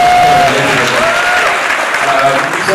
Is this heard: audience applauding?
yes